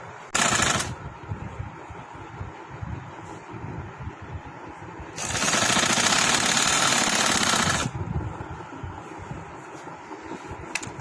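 A sewing machine stitches linen for a kurti in two bursts, one brief near the start and a longer steady run of several seconds later, with quieter handling noise around them.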